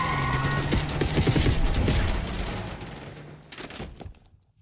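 Gunfire aimed at an arriving limousine in Call of Duty: Black Ops 6, a burst of rapid shots and crashing impacts that fade out, followed by a few scattered louder hits near the end.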